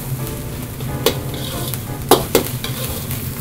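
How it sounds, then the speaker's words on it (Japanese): Fish-based mapo tofu with milt frying in a hot pan as its moisture cooks off, a steady frying hiss broken by a few sharp pops and light clinks of a utensil. "水分がなくなって、バチバチいうこう炒まってくる音がしてきたんで"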